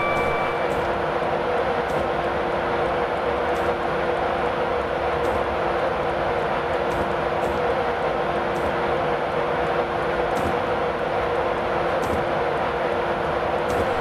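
A Class 91 high-speed electric train picks up speed, heard from inside as a steady, loud broadband roar and rumble with faint regular clicks of wheels over rail joints, continuous for the whole stretch.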